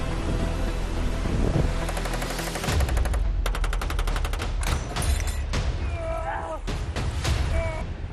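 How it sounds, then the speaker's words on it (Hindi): Rapid bursts of gunfire, machine-gun-style fusillades in quick succession with sharp cracks and rumbling echoes, loud and close, some voices mixed in between volleys. "45 साल बाद भारत और चीन की सीमा पर कोई फायरिंग हुई।"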